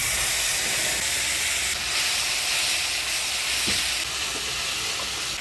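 Mustard paste hits hot tempering oil with nigella seeds and split green chilies, giving a loud, steady, hissing sizzle that runs unbroken throughout.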